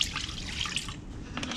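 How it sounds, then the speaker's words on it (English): Simple Green cleaner poured into a shop parts washer, a soft steady trickle and dribble of liquid lasting under two seconds, close by and fairly quiet. "I'm gonna get a little bit of our Simple Green. Just gonna dump in about a cup or two."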